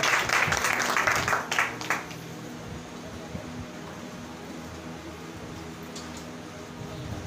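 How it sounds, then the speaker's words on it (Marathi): A church congregation at a blessing meeting breaks into loud, dense applause for about two seconds. The clapping then thins into a low crowd murmur with a voice under it. "आपण जोरात टाळ्या वाजवूया आणि त्यांचं आणि देवाच्या वचनाचं आपण स्वागत करूया।"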